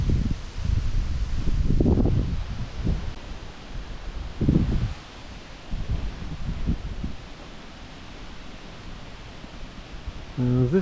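Gusty wind sweeps through trees at a solo campsite at Pinckney Recreation Area, Michigan, with loud rumbling gusts in the first half easing to a softer, steady rustle of leaves.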